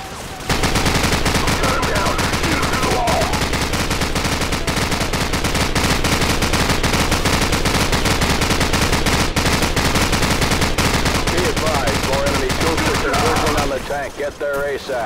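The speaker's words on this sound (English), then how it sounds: "Hit their flank with their machine gun. Jackson, use their machine gun." Rapid, sustained machine gun fire in Call of Duty 4: Modern Warfare on the Bog level, loud and dense for nearly the whole stretch, with shouted voices mixed in before it tapers off at the very end.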